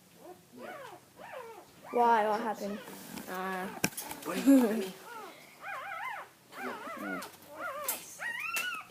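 Puppies whimper and yip in a string of high, wavering cries that continue throughout, close by and fairly loud, with a person speaking briefly among them.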